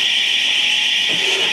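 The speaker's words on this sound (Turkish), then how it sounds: "Bir yerde alarm çalıyor" An alarm rings somewhere nearby as a steady, continuous high-pitched tone, fairly loud and unbroken throughout, with faint room noise beneath and no talking.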